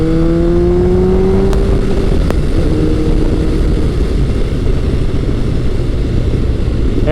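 A 26-year-old Kawasaki ZRX1100 retro motorcycle runs under way. Its engine gives a loud, continuous roar with a few rising and falling tones early on, and wind rush blends in throughout.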